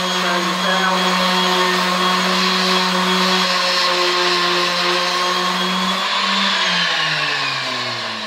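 Power sanding wood for a coat rack, with a loud, steady motor whine and droning hum held close throughout, pitch sagging as it slows near the end, no speech.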